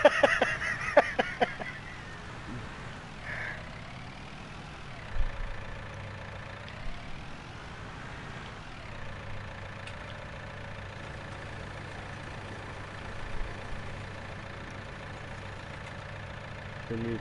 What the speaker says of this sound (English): The new tractor, the International, sounds like a goddamn truck line.